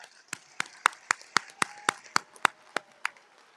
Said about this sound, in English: Audience, please join me in giving them a well-deserved round of applause.